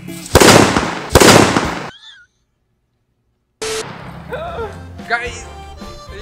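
Two loud, sharp Lakshmi firecracker bursts in quick succession, followed by silence, then people talking and exclaiming.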